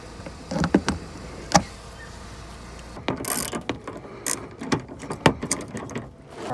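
A ratchet working a 10 mm bolt loose on a 2008–2012 Chevy Malibu during a headlight bulb replacement, giving close, irregular bursts of clicking and metallic clatter with brief pauses between them.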